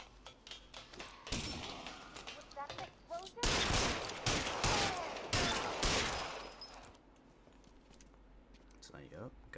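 Gunfire from the video game L.A. Noire, a cluster of sharp loud shots and rapid bursts in the middle, with quieter thumps and rustling before and a calm tail after.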